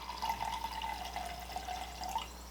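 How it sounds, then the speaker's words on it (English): Pinot Grigio wine pouring steadily from a bottle into a glass, a continuous liquid gurgle with a slight rising pitch as the glass fills, close and fairly quiet, with no talking. "So I'm gonna pour me some of this Pinot here."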